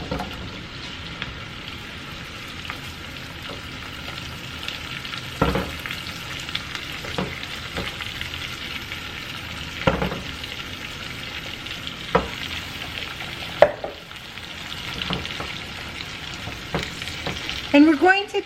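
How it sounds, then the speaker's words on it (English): Shrimp fry with onion in a hot pan for garlic shrimp, a steady crackling sizzle punctuated by several sharp spoon scrapes and knocks against the pan, close up with no talking. "we're going to add our shrimp"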